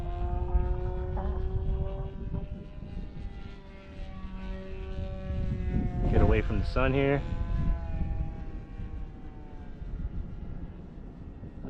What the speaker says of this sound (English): That's that P-40. I love this plane, man.